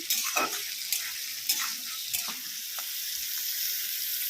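Taro stalks with raw chickpeas being stirred and fried in a pan at home, a steady close sizzle with scattered scraping clicks of the spatula throughout, no voices.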